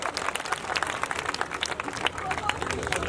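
An audience at a poetry gathering, a kavi sammelan, breaks into steady applause, many hands clapping together in a dense, lively burst that carries on throughout.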